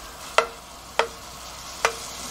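Oysters stir-fried in sesame oil in a pan, heard as three sharp separate clatters of utensil stirring against the pan at steady intervals over a low, faint sizzle, close up with no talk.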